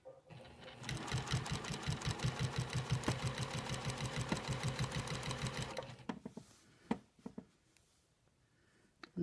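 A sewing machine stitches quilt binding in a fast, even run of needle strokes for several seconds, then stops, followed by a few soft handling clicks and taps.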